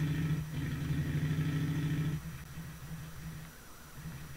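A motorbike engine idles in the Fallout 3 video game, a steady low throb that is stronger in the first two seconds and then drops to a softer, continuous hum.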